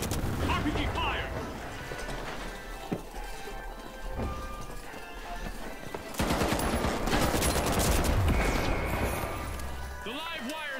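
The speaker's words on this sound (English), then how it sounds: "RPG fire!" RPG rocket fire and explosions in The Finals, with bursts of gunfire and crashing blasts that swell louder midway, heard under continuous excited talking.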